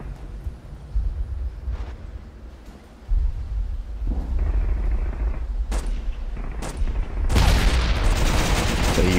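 Battle sounds from the video game Warfare 1944, with booming bombardment and bursts of rapid gunfire, rumbling low and thick, growing louder and denser toward the end.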